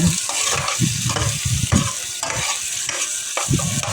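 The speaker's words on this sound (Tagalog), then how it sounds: "Una, igigisa ko ng sibuyas, bawang, luya" Onion, garlic and ginger sizzle in hot oil for pancit canton, with steady frying hiss and repeated rhythmic scrapes of a spatula stirring the pan, close and fairly loud with no talking.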